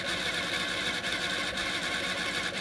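An AlphaCom thermal printer, driven through a Next IF1 interface, prints with a steady, dense mechanical whir that stays close and even for the whole stretch, with no talking.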